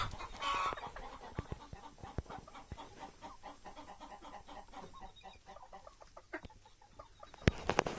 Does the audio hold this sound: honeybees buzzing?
no